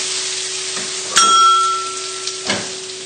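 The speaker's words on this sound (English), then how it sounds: "it's just a case of mixing the pasta into the pesto and the sausages" Pasta being tossed with pesto and sausage in a hot pan, a steady sizzle under a bright metallic ding of a spoon against the pan, with a couple of softer knocks.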